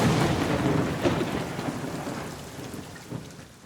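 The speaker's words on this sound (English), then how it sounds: "On this particular night of rain and thunderstorms" A night thunderstorm with heavy rain, a dense steady hiss of rainfall under a low rolling rumble of thunder that slowly fades, with no voices.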